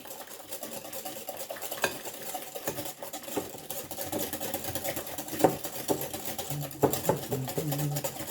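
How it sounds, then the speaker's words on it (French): A spoon stirs through a gently simmering pot, scraping and clinking in a steady, close rhythm with soft bubbling beneath. "Et on remue."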